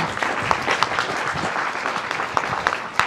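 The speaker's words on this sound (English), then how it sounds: "Let's give another round of applause to Mike Manson." Live audience applause following a talk at a technology conference, a dense patter of many hands clapping with a few sharper individual claps standing out, continuous and fairly close.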